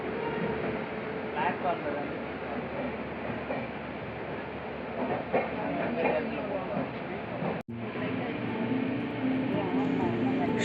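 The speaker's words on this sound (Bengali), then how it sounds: "মোটামুটি নির্ধারিত সময়েই আমাদের ট্রেন চেন্নাই থেকে ছেড়ে দিয়েছিল।" A train just out of Chennai rumbles steadily along the line toward Katpadi, heard from inside a carriage as a loud continuous roar with faint rattles and a brief dropout near the end.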